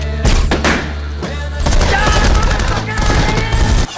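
Rapid bursts of gunfire crackle loudly over a booming movie soundtrack, with shots clustered in volleys and a deep rumble underneath.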